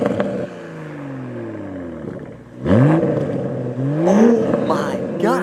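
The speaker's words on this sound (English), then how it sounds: "Let's go ahead and get a couple of revs out of it." A stock-exhaust 2021 Toyota Supra, warmed up and parked, revs its engine in a couple of sharp blips that rise and fall, with a steady idle between them and loud, close exhaust note.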